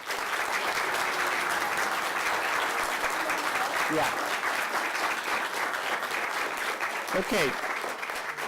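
Sustained audience applause fills a city council meeting chamber, steady and dense throughout, with a few brief spoken words and voices mixed in over the clapping.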